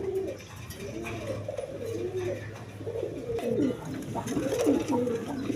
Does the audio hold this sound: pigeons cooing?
yes